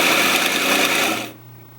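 A 4 Wolf belt sander mounted in a GRS Benchmate adaptor runs with a bright, buzzing whir, then cuts off abruptly near the end and leaves a fading low hum.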